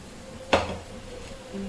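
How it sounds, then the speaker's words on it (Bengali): A wok set down on a gas stove gives one sharp metallic clank with a brief ringing decay, close and alone over a low steady hum, no talking. "আমি এই গ্যাসের উপরে একটা কড়াই বসিয়ে দিলাম"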